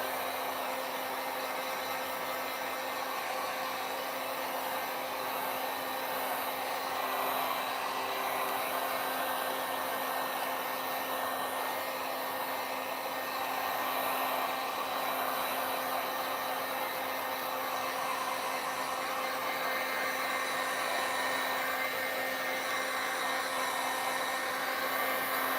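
A handheld hair dryer blowing steadily to dry fresh paint indoors, a loud continuous whooshing roar with a faint steady whine that runs unbroken throughout, with no talking.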